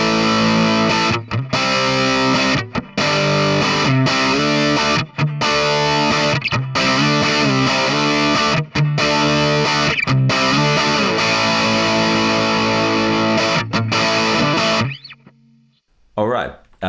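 Distorted electric guitar plays through a speaker cabinet miked at the center of the cone: loud, thick chugging chords with sharp stops and restarts, ending in a ringing held chord that cuts off.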